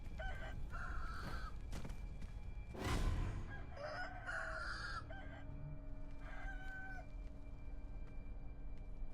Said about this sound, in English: These chickens are really pissed off.